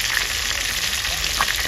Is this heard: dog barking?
no